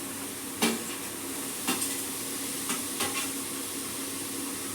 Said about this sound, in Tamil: இப்போ வந்து நம்ம தக்காளி போடுறோம்